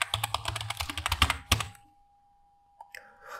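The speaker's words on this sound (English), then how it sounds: "Here just type Nifty Bank." Typing on a computer keyboard: a quick run of close, clicky keystrokes for about a second and a half, then quiet with a few faint taps near the end.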